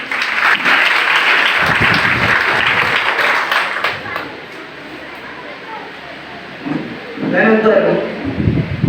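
A live audience at a mimicry show claps loudly for children, a dense burst of applause that fades out, with voices speaking and a brief bleat-like vocal near the end.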